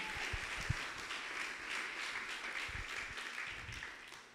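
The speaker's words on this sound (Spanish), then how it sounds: "Vamos, alguien dele un aplauso fuerte al Señor." A church congregation applauds the Lord during a discipleship sermon, a dense, continuous wash of many hands clapping, with a few low thumps or voices mixed in before it tapers off.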